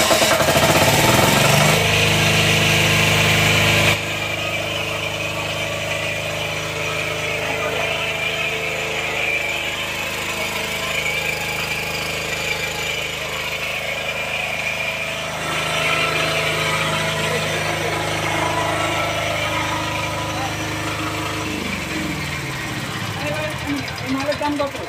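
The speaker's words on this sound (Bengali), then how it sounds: "এবার অন করেন, ইঞ্জিনটা অন করেন।" A Total 5000W petrol generator engine runs steadily after its first start, a loud continuous close drone with a shift in tone early on and talk over it.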